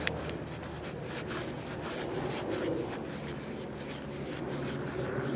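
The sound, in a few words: scouring outboard engine block skirts with a Scotch-Brite pad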